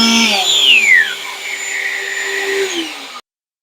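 A Ryobi 18V PCL401 quarter-sheet sander runs hooked to a small project vac, a loud close whine and hum that winds down in pitch and then cuts off abruptly.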